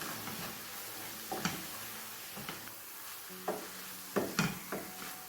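Green chillies being stirred into a roast in a pan, with a spoon scraping and knocking against the pan in a few separate scrapes and soft clunks over a quiet, low sizzle.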